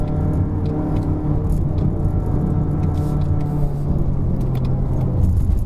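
A 2019 Mazda3 1.5L liftback climbs a steep hill road at Genting, its engine giving a steady, close droning hum with layered tones and faint rattles while the automatic gearbox shifts up on its own. No one talks.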